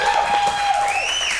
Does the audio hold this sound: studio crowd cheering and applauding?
yes